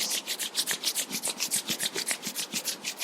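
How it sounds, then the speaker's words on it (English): Palms rubbed briskly together in a yoga session, a steady rhythm of about sixteen close, dry swishing strokes in three seconds, heard alone without talk. "let's start rubbing our palms"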